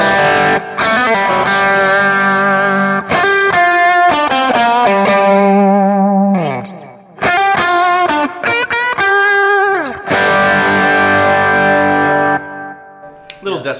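Electric guitar through a Kemper profile with a hot knife EQ, heavily distorted and close: chugging chords and riffs with sustained notes ringing out, brief pauses between phrases, and no voices over it.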